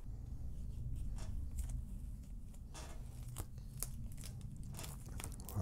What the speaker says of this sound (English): first thing we got to do is take the electrical tape off.